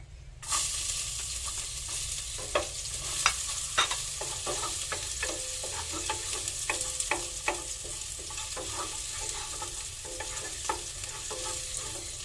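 Garlic frying in a hot pan for Filipino adobo, a lively sizzle with a spoon scraping and tapping against the pan in repeated quick strokes, close and fairly loud.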